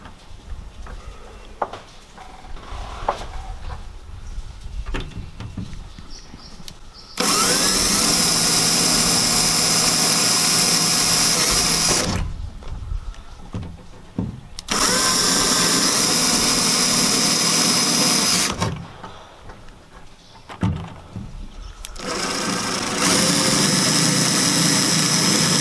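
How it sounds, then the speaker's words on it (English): A power drill bores pilot holes through a boat deck for a camera mount, running in three long high-pitched bursts of several seconds each, separated by quieter pauses with handling noise. "we've got the 4 pilot holes drilled"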